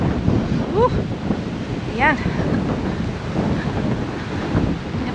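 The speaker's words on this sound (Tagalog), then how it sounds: "Ang lakas ng hangin, tsaka medyo umuulan." Strong wind with light rain buffets the microphone in a steady, rough roar, with a brief spoken word and faint chirping whistles in the background.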